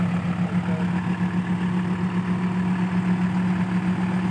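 A tractor engine runs steadily at idle on wet ground, a constant low, droning hum with a slight throbbing pulse, close and unbroken throughout.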